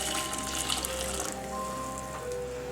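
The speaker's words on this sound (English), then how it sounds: "into a bowl I'm going to place in 2 cups of boiling hot water" Two cups of boiling hot water poured into a bowl for gummy worm jelly, a steady close splashing gush that is fuller at first and then settles into a lighter continuous stream.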